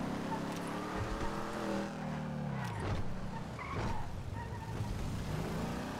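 Cars race in GTA 5 during a stunt race, with engine drone, skidding and tire noise steady throughout while voices talk over the game sound.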